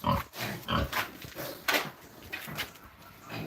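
Pigs on a farm give short grunts and snorty oinks in irregular bursts, fairly close by, with no talk over them.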